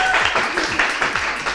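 Audience applause for competing school teams at a youth event, steady dense clapping held at moderate level for the whole stretch, with faint voices mixed underneath.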